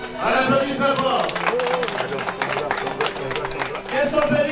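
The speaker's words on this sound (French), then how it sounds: "On applaudit très fort." A crowd claps and cheers loudly at the inauguration of a modern borehole, steady dense applause with a background murmur of voices and a few brief vocal calls mixed in.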